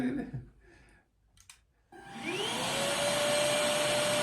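A cordless vacuum cleaner starts after a few quiet clicks and a brief pause, then whirs up into a loud, steady whine with a rising tone that holds strongly to the end.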